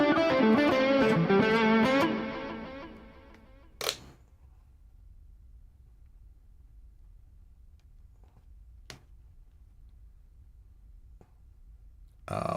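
Electric guitar run through delay, chorus and reverb, a dense chordal strum ringing for about two seconds before fading into a long reverb tail, followed by near silence broken by a few faint clicks.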